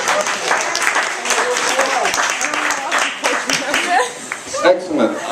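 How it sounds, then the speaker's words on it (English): An audience applauds in a steady burst of clapping at a stage magic show, with some chuckling and crowd noise mixed in. "You guys give him a bit of encouragement, a big round of applause."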